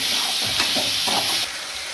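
Tomatoes and green chillies sautéing in a pan for prawn biryani, giving a steady close sizzle with a few soft stirring scrapes, no voices.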